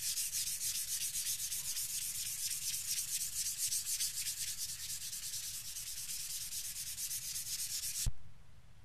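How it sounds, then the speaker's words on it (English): 800-grit sandpaper rubbed rapidly back and forth on a hard polyester gloss guitar finish, a steady close hiss of strokes that stops abruptly near the end. "I finished polish sanding with the 800 grit"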